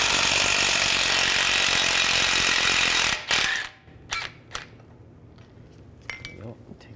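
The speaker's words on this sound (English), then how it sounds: "All right, now I'm gonna remove this nut." A socket wrench turning a 15 mm suspension nut on a 2011-15 Chevy Cruze during a front CV axle job, with dense ratcheting at first, then a few sharp metallic clanks and taps after a pause.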